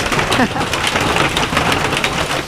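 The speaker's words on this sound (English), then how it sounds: "you can probably hear it. It's hailing out here." Hail falls outdoors in a dense, loud, steady pattering and hissing, close by and unbroken throughout, with no clear talk.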